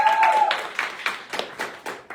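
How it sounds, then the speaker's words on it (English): Short burst of audience applause at a live spoken-word show, a few scattered claps rising into a brief patter of hands after a faint tone fades out. "A round of applause for Uladia."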